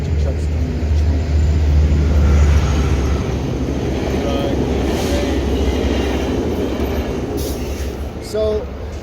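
Several trucks and a train passing outdoors, a steady heavy rumble with low engine drone and broadband roar lasting throughout, fairly loud, with a few faint higher squeals near the end.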